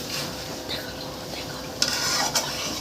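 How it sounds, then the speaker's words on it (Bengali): Chicken stirred and sautéed in a pan, a spoon scraping and clinking against the metal with light sizzling underneath, two sharper scrapes near the end, close and moderately loud with no talking. "এখন খুব ভালো করে চিকেনটা কষাবো।"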